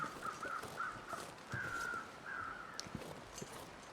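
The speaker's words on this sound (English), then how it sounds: "I'm hearing some more crows" Crows cawing in The Long Dark, a string of faint, distant harsh caws repeating at uneven intervals over quiet outdoor ambience.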